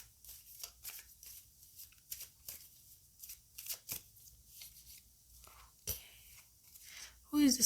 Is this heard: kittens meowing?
no